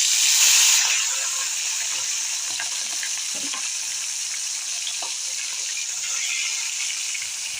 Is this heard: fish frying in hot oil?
yes